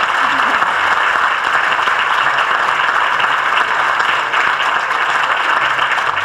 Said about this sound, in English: And I want to give an applause for the student.